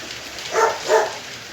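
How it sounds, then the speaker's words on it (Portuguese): A dog gives two short, close barks in quick succession against a steady background hiss. "Eita, cachorro abusada."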